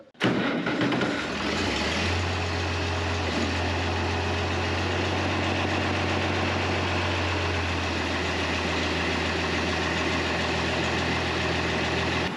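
An old International tractor engine rumbles to life and settles into a steady, loud, close idle as it warms up, with a deep continuous drone and no talking.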